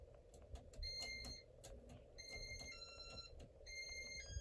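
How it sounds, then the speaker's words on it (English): A Casablanca Panama ceiling fan running in demo mode gives a string of short, very high-pitched electronic beeps, some single and some in quick runs, over a faint background hum. "the beeps are very high pitched"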